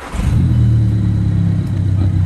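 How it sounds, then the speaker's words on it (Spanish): A Volkswagen Scirocco fitted with a THOR electronic exhaust system starts up, its engine rising into a deep, steady, close rumble that holds with a low droning hum. "El coche ya está arrancado"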